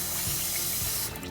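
Tap water runs steadily into a kitchen sink as basmati rice is rinsed, a continuous close, loud splashing hiss that eases off near the end as the flow is cut.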